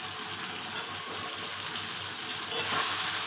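Potatoes dropped into a hot pan with sesame, a continuous bright sizzle that swells slightly louder near the end, with no voices.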